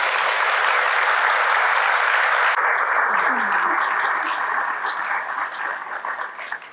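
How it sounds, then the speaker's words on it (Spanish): A conference audience gives a loud, dense round of applause that holds steady, then gradually thins and fades toward the end. "Yo quiero de verdad aplaudirlos a ellos"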